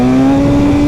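Close, loud motorcycle engine, a supermoto, holding a steady droning rev for a brief moment with no voices over it.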